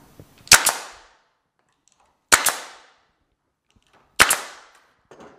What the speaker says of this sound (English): I've got a nail gun, so I'm just gonna put one in real quick.